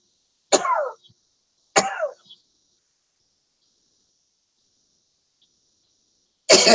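A pipe smoker coughing from strong pipe tobacco, two separate harsh, close coughs a second apart, then a long quiet pause before a third burst at the very end, with a faint bird-like chirp in the background.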